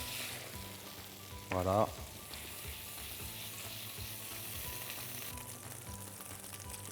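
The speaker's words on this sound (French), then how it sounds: "Je vais mettre ma brioche à colorer doucement dans mon beurre." Custard-soaked brioche fries gently in butter with a steady, soft sizzle, while a brief utterance is heard.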